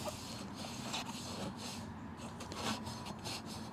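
A foam pad rubs polish onto a car exhaust tip in quiet, repeated scrubbing strokes, a soft rasping swish with no talking.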